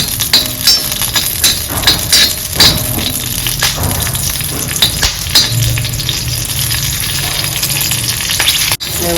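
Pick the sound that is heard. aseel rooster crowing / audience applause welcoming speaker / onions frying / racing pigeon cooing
onions frying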